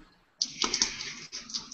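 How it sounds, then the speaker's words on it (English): Faint, close crinkling, like plastic or paper being handled during a class, comes as a quick cluster of crackly rustles lasting about a second and a half. "There's a crinkling sound."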